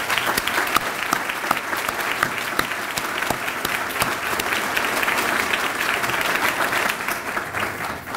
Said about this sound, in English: One more loud round of applause for all these folks.